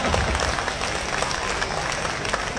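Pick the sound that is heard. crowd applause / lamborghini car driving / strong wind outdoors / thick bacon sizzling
crowd applause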